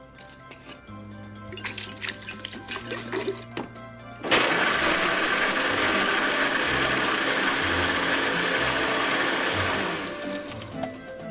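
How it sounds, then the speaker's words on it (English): A kitchen blender whirs loudly and steadily for about six seconds, blending nuts, honey and water into milk, after a quieter stretch of faint tones and room noise. "Did you get that blender?"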